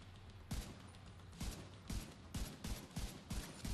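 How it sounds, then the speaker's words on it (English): Gunfire in The Division 2, a run of heavy, booming shots fired in a steady rhythm, roughly one every half second, loud and close against a low ambient hum, with no talking. "Oh, this gun is strong, dude."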